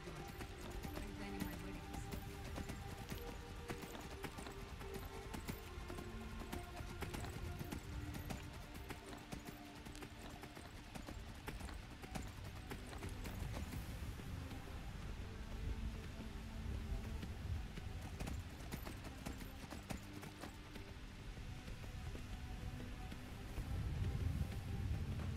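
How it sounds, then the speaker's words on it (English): In the Skyrim video game, a horse's hooves clatter rapidly up stone stairs, a dense continuous clip-clop over ambient game sound that lasts throughout. "Don't mind me just running up the stairs with a horse."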